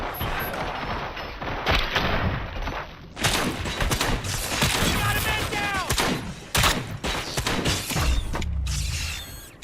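Gunfire and mechanical clanks in the RoboCop video game, loud bursts of shots and thuds in irregular clusters, interrupted by short creaking and ratcheting sounds, with brief gaps between volleys.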